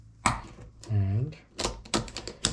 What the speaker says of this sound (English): click that into place, and that is your trail stand